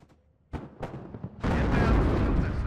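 Grenade launchers firing in the wargame WARNO: a couple of sharp separate blasts, then a loud sustained roar of rapid explosions and gunfire filling the rest of the stretch.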